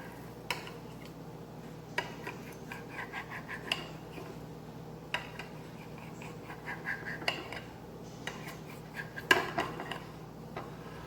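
Cornflour barfi sliced with a knife on a plate: sparse, quiet metallic scrapes and clicks at irregular intervals over a low steady room hum, one slightly sharper tap near the end.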